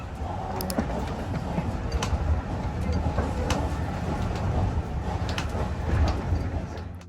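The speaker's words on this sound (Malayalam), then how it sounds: "എന്നിട്ട് നമ്മുടെ ട്രെയിൻ പയ്യെ മൂവ് ചെയ്ത് തുടങ്ങി." A coal-fired steam train on a UK heritage line pulls slowly away after its doors are shut, giving a steady, close, low mechanical rumble with faint clanks and knocks throughout.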